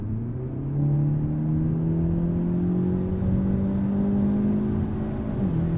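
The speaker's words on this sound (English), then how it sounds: "And now I'll just put my foot down, let all that 286 horsepower channel through the front tires." A 2023 Hyundai Elantra N with a DCT gearbox and 286 horsepower pulls hard, its engine droning steadily upward in pitch from inside the cabin, loud and continuous with a brief dip near the end.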